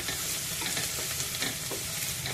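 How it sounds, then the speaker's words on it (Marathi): Crushed garlic and chillies sauté in a pan over medium heat, giving a steady, close, broadband sizzle with faint stirring scrapes throughout and no voices. "ठेचलेलं लसूण, हे सर्व आपल्याला गुलाबी रंग येईपर्यंत परतून घ्यायचं आहे"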